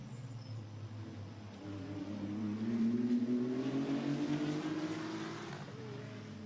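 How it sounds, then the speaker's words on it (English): GT2 race cars pass on the Misano circuit during a race, their engine note rising and swelling as they approach, then fading away, heard at a moderate distance. "GT2 cars, all with their distinctive engine note, they all make a great sound"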